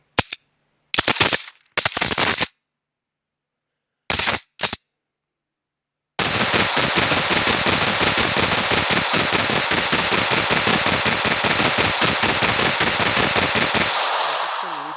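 An automatic rifle from a Minecraft weapons mod fires, first in a few short isolated bursts separated by silence, then in one loud sustained rapid-fire stream lasting about eight seconds before fading out, with no talk.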